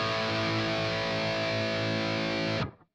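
A5 power chord strummed once on a distorted electric guitar, a thick sustained roar ringing for over two seconds before being abruptly choked off into silence.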